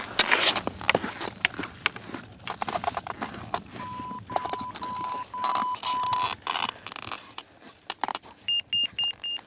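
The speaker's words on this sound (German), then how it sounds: "Der Piepston gibt das Okay zum weiteren Aufstieg." Avalanche transceiver emitting check beeps during a group beacon test on an alpine ascent; a steady tone runs through the middle, then a series of short, regular, high beeps near the end, over outdoor bustle and footsteps.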